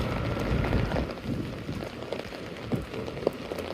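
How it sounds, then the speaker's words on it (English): Steady, consistent rain falling on pavement and surfaces in New York City during a rain and wind storm, a dense continuous patter of drops with no voices. "And the rain's still fairly consistent"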